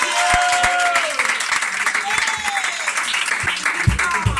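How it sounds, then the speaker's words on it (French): A church congregation claps and applauds during a French-language worship service, scattered, uneven clapping beneath a voice speaking. "S'il vous plaît, applaudissons la présence de Dieu."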